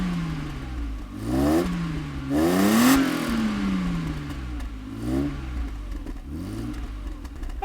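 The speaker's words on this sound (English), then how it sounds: "I mean, it is a nice engine. I know these engines have a reputation for being troublesome, but it is a beautifully smooth V8." A smooth V8 engine in a German cruiser car revs up repeatedly, rising and falling in pitch over a steady low drone, reaching a strong peak before settling back, with no speech.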